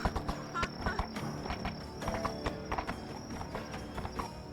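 Horse hooves clip-clop in a steady approach through a VRChat roleplay scene, alongside a stuck cart on the road, with busy clattering and background ambience throughout.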